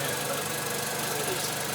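A Mini Cooper engine idling after new spark plugs are fitted, a steady, dense rumble heard close up with no clear talking.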